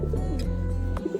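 A blue bar racing pigeon, probably a male, gives a couple of soft, close coos, one at the start and one at the end, over a faint low background hum.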